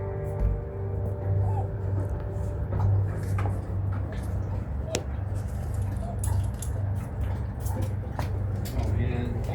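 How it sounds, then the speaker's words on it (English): A mother dog and her puppies whimper and yip softly on a carpet indoors, faint scattered squeaks beneath a steady low hum while people talk over them. "Look at the mama dogs. Look at all the babies."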